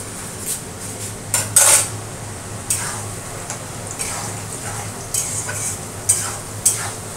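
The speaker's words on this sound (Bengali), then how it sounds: "এই আমি সোয়াবিনের আলু ভেজে দিচ্ছি" Soybean chunks and potatoes frying in a pan with cardamom, cinnamon and cumin, a steady sizzle under loud metallic clinks and scrapes of a utensil against the pan at irregular intervals.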